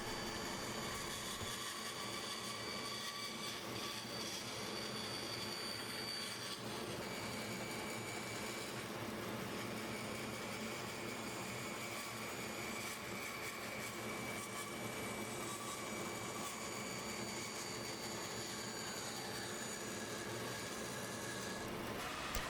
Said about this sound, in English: Take it over to the bandsaw and cut off that waste.